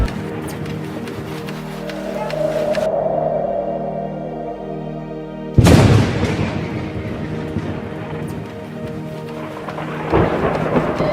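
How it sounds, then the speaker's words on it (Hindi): A thunderstorm with heavy rain, as a low rolling rumble gives way to a sudden loud crack of thunder that booms and fades under a steady hiss of rainfall. "लगता है तूफान आ रहा है।"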